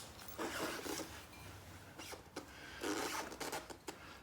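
Motorcycle brake caliper pistons on a Honda CB1100 being cleaned with pads removed, heard as close, quiet scrubbing and rubbing strokes in irregular bursts with short scraping rasps, no speech.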